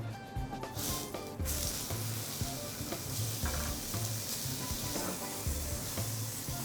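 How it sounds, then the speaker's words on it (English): Alaska pollock fillets sizzling in a pan for a simple Filipino-style dish: a constant, fairly loud frying hiss with occasional stirring clatter, heard over steady background tones. "So now it's time for me to cook the Alaska pollock."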